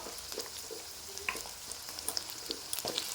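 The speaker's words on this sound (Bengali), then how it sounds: "আলুটা একটুখানি আমি ভেজে নেব" Potatoes fry in oil over a low flame, a soft continuous sizzle broken by scattered crackles and small stirring clinks, fairly quiet with no talking.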